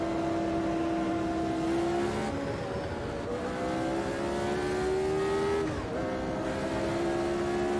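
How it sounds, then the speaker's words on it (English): A Lotus 79 race car accelerates through the gears in Automobilista 2, its engine whining up steadily with rising pitch, briefly dropping at quick upshifts, loud and close with no talk. "Let's just kick the tail out a little bit as we accelerate in 2nd gear."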